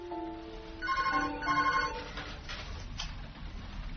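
A telephone rings in a British radio drama sound effect, two bursts of a trilling electronic bell followed by a brief clatter as if the receiver is lifted, with no talking.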